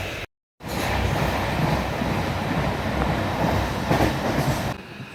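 A passenger train runs with its rail coach rumbling and rattling, a steady loud rushing roar with faint rhythmic clatter, broken by a brief dropout near the start.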